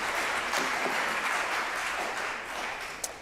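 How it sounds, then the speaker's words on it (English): A crowd at an Ethical Society event claps together in a dense, even burst that holds steady for about three seconds, then thins, with one sharp final clap near the end. "Everyone applaud."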